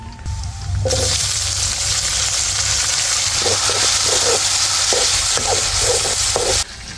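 Chopped tomatoes and coriander, with crushed coconut and garlic, hit hot oil in a pan for lentil amti and sizzle loudly and steadily, a continuous hiss broken by faint stirring scrapes.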